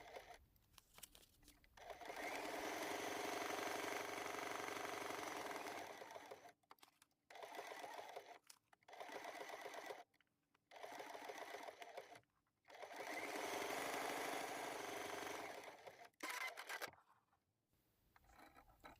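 A sewing machine stitches fusible appliqué pieces on a quilt block, running in long steady bursts broken by short pauses and a few brief stop-start runs, close and clear with no talking.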